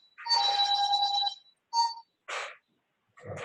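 A husband's phone rings nearby, a shrill electronic tone in one long burst followed by two short bursts, with a fourth starting as the clip ends.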